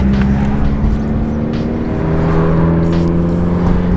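Engine of a Subaru WRX heard from inside while driving, a steady low drone with a shifting tone and constant loudness throughout, no talking.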